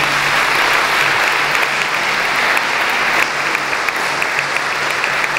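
Warm audience applause at a Lions Club gala evening in Monaco: dense, steady clapping from a full room that holds at an even level throughout with no voices on top.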